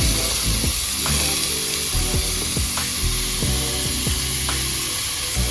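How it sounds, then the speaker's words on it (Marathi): Spices crackle and sizzle in hot oil for Goan pork sorpatel, a loud, continuous close-up frying hiss with scattered pops and stirring clicks throughout. "तेल घेयला आनी हांव तें फोण्ण मारून"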